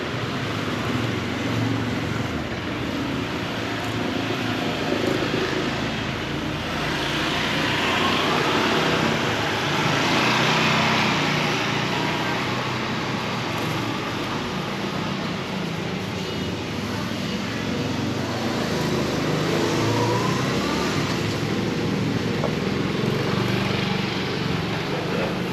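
Motorbikes stream along a busy Bangkok street in a continuous droning roar of engines that swells and eases slightly as vehicles pass.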